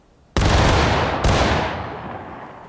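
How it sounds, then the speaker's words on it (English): A company volley of muskets fired together in War of Rights: one massive near crack with a second blast about a second later, each rolling into a long decaying echo. "Good volley, lads, good volley."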